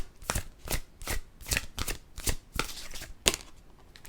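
A deck of Halloween oracle cards is riffled and shuffled by hand at close range, producing a quick series of crisp, papery bursts in an uneven rhythm with no talking.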